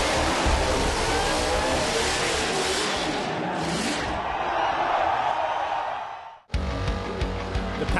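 A burnout car's engine revs hard and roars with screeching tyre noise at the Perth Motorplex, sustained and loud over a cheering crowd for about six seconds, then a sharp cut to another loud revving burst.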